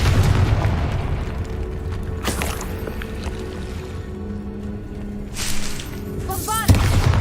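Fiery Confringo spell blasts cast during combat in the video game Hogwarts Legacy: loud booming bursts go off one after another over a rumbling battle background, the last sharp and close.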